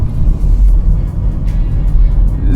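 A car engine slows down on an open road with a steady, loud, low rumble and faint road noise, with no braking sound and no talk.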